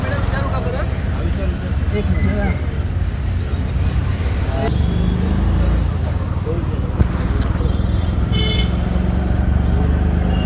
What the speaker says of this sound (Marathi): आता रिक्षाने आपण प्रवास करतोय